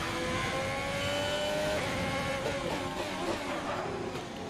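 A Formula 1 race car engine in the F1 2020 video game screams at high pitch, its tone shifting as it accelerates and upshifts, with a faint tire squeal near the end and no voices.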